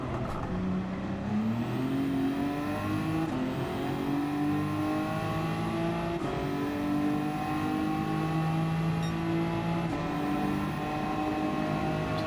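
Race car engines in Gran Turismo 7 rev and climb through the gears in long rising sweeps, loud and close, with shifts breaking each pull and a steady roar running throughout.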